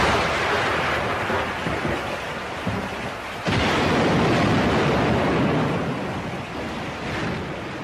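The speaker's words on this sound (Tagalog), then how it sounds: "Alam mo, Jaime, kapag ganitong umuulan" Heavy rain pours in a steady roaring wash, with a sudden deep crack of thunder midway followed by continued loud downpour, no voices.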